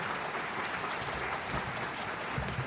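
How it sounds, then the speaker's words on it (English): An audience at a military family forum applauds a panel on spouse employment, a steady, moderately distant round of clapping that holds evenly throughout. "please, another round of applause for our panel"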